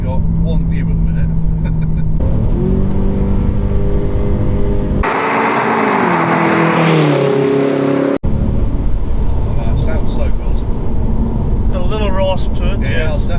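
A Volkswagen B5.5 Passat W8 drives with a steady, loud engine drone whose pitch climbs and shifts through gear changes, heard from close by with a brief cut partway through.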